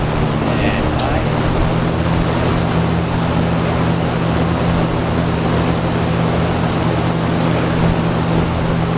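A Dayton Lakewood box fan runs on its high setting, giving off a constant airy whoosh over a steady low motor hum. A voice is briefly heard near the start.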